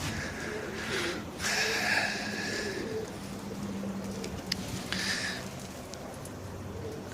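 Young pigeons coo softly in the open while the flock is out flying, with faint calls rising in two short clusters over a quiet background.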